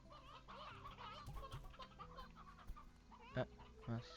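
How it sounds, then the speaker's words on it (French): A chicken in the Slime Rancher video game clucks in quick, soft bursts, faint and close, with a few sharper blips and game effects layered over it. "la poule s'est échappée"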